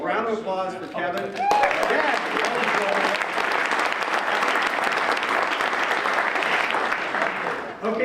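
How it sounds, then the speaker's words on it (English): Sustained audience applause fills a Rotary Club meeting room for a member named Kevin, steady and dense from start to finish, with a few voices and whoops over the clapping in the opening seconds. "a round of applause for Kevin"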